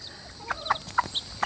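Several short clucks from a mother hen, scattered over a second and a half, fairly close against a quiet forest background.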